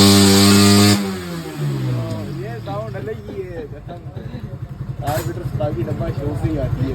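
A modified motorcycle, a 1997 bike converted to a 2025 style, revs loudly at first, then settles into a rough, pulsing idle beneath a voice talking nearby.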